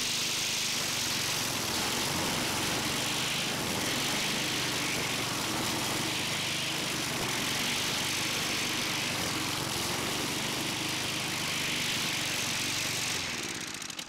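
A walk-behind high-grass mower with large 14-inch wheels runs steadily over rough terrain, its engine droning loud and close while it cuts weeds and tall grass and throws the clippings out the side.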